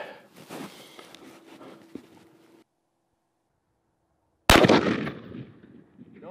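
Gunshots fired at a ceramic body armor plate backed with gel during a perforation test, heard as a sharp, loud outdoor report after near-silence, preceded by faint scuffling and distant shots.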